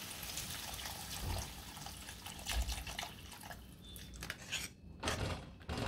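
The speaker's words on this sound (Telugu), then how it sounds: "ఇప్పుడు పాలు పోస్తున్నాను" Milk is poured into a cooking pan on a stove, giving a steady liquid splash and trickle with faint clinks of utensils, close by and with no talking.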